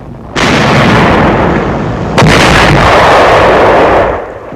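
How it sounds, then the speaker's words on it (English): A 2nd Armored Division tank fires its gun in a WWII newsreel: a sudden loud blast and a second heavy report a couple of seconds later, both rolling out under a dense, continuous roar with no voices. "A tank of the 2nd Armored Division opens fire."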